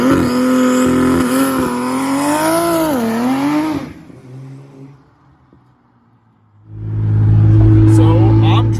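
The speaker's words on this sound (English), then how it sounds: "So I'm driving my F80." A BMW F80 M3 accelerates up close, its engine note climbing and dipping in pitch for a few seconds. It then drops to near quiet before settling into a loud, steady drone.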